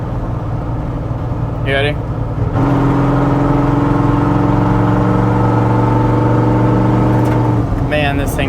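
Chevrolet Suburban engine revving hard as the driver gives it gas, a loud, steady rising roar that holds for several seconds, with a brief spoken voice just before it starts.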